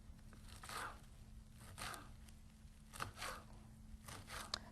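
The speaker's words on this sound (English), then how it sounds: "you grab you a bunch like this, and you begin to cut it." Knife slicing thin through a bunch of leafy greens on a cutting board, several soft scraping cuts spaced about a second apart, faint and close, with a low steady hum underneath.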